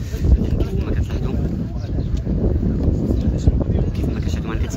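Outdoor wind buffets a microphone in Kenitra, making a steady low roaring rumble that fills the whole moment without letting up.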